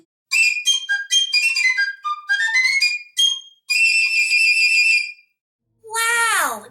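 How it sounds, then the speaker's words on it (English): A piccolo plays a bright, very high melody of short detached notes and a few held tones, clear and close with silence between phrases, ending in a rapid upward flourish. "I love the piccolo. It's so cute and tiny. Would you play us something?"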